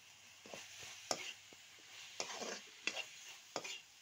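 A spoon stirs a ground spice mix of coriander, red chili, meat masala and cumin in a pan, producing soft scraping strokes with a few sharper taps against the metal, faint and close.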